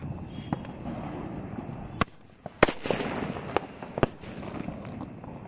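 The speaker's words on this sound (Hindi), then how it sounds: "साउंड को जला के देखते हैं ये थ्री साउंड है कैसे चलते हैं।" A three-sound cracker set off during outdoor cracker testing: a few sharp, loud bangs spaced a second or two apart, with smaller pops and crackles between them over a low background.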